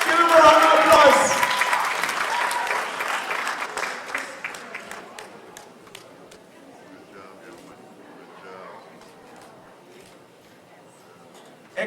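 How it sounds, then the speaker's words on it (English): Audience applause at a live expo event, a burst of clapping that starts loud and thins out gradually over several seconds into scattered claps and quiet murmuring from the crowd. "Give him a round of applause."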